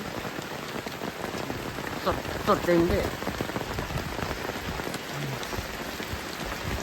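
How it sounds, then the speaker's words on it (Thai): Heavy rain pelts down at night in deep forest in a dense, constant patter, close and loud, with strong wind and a voice briefly speaking over the downpour. "ฝนตกหนักมากครับทุกคนตอนนี้"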